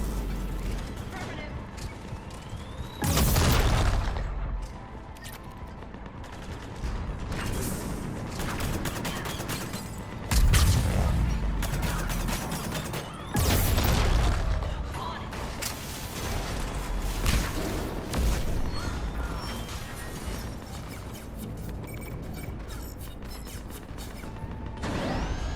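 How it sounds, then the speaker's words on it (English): Mechanical clanks, creaks and heavy booming bursts come from cannons being armed in the video game Mass Effect 3, with several loud impacts over an ongoing rumble and voices talking in between. "Aria, the cannons have to be armed manually."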